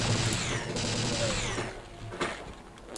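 Rapid gunfire in the video game Blood, a dense burst of repeated shots that fades into a few scattered bangs and a low rumble, with no voices.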